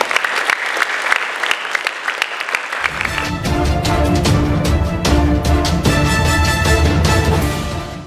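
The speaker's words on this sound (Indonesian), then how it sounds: "Kasih aplaus untuk mereka semua." Loud, sustained applause from a large crowd at a boarding-school graduation ceremony, starting as scattered clapping and swelling into a steady, full roar of hands that tails off near the end, with music or voices faintly underneath.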